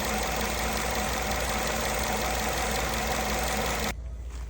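Nissan Rogue engine idling with a steady, even drone and constant low rumble, cutting off abruptly near the end as the engine is switched off, leaving near silence.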